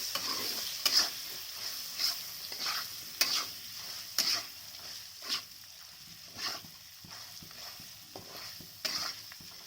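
Boiled potatoes and taro frying and being stirred in a pan, a steady sizzle with repeated scraping strokes of a utensil at a quiet, close level.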